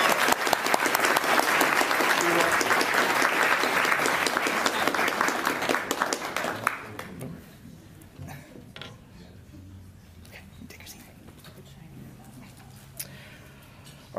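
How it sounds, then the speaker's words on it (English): Loud, dense applause from an audience at a youth human rights awards ceremony fills the first half, then fades after about seven seconds into quieter room noise with scattered movement. "Let's all give Niyama a much-deserved round of applause."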